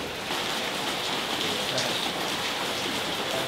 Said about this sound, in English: it's raining, it's pouring rain right now outside